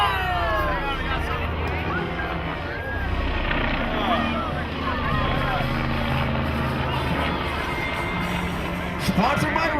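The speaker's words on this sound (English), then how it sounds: "Radio 105 helicopter, courtesy of Red Bull, and check it out as he rolls it upside down" A Red Bull aerobatic helicopter rolling upside down at an airshow throbs with a steady rotor and engine drone, heard from a distance beneath crowd chatter and an announcer talking over the scene.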